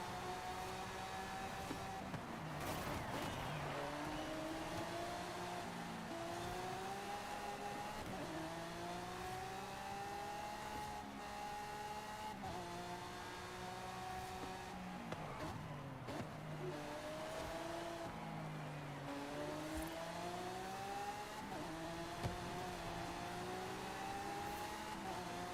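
Lamborghini engines roar and rev continuously during a race in the video game Forza Horizon 5, with repeated gear shifts, rising and falling pitch, and occasional tire noise, all steady and loud throughout.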